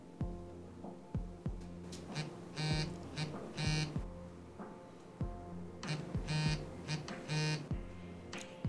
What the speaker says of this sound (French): votre téléphone sonne